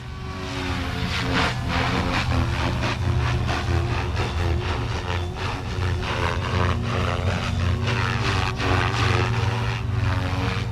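An electric RC helicopter spun up in idle up 1 at a 70% throttle curve, its rotor giving a loud, steady whirring drone with rhythmic blade pulsing throughout, close by and without talk.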